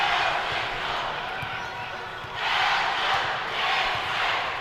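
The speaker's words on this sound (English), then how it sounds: "This crowd is highly into this ball game." A packed high school boys' basketball crowd roars through a tied regional tournament game, a steady broad wash of cheering that swells louder twice.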